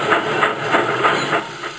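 Steam tram engine chuffing in a rhythmic series of about six soft, hissy puffs, steady and fairly close, with a continuous steam hiss underneath and no talk.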